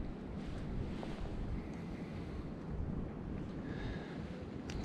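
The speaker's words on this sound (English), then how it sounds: "The wind's a bit of a nightmare to try and gauge the depth. It's just blowing the braid to the side." Wind blows at a lakeside during pike fishing, a steady low rumble buffeting the microphone with faint lapping water underneath and no talk.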